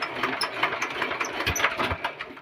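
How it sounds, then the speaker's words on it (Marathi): A small engine of a VST power tiller starting, chugging and puttering close by with an uneven, knocking rhythm. "आता आपण ट्रॅक्टर चालू करत आहे"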